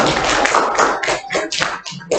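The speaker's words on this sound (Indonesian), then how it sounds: "sekali lagi kita tepuk tangan untuk kelompok 1" Members of a classroom gather in a short burst of clapping for a student group, with irregular, close hand claps for about two seconds, some louder slaps standing out.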